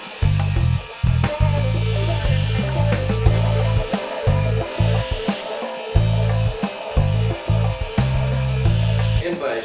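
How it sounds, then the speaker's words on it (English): A power saw on a fence cuts grooves into the bottom of a wooden dice tray, its loud steady motor hum broken repeatedly by short drops and restarts as each pass is made, close and with no talking. "Now I'll do my usual method of cutting grooves in the bottom."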